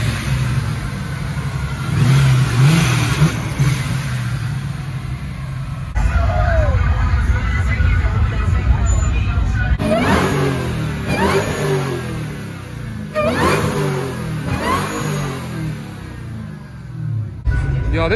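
Revving from a Hemi-powered Dodge Scat Pack-style car with a fresh dealership plate, loud and close, with repeated throttle blips swelling and falling over a steady rumble while people talk nearby.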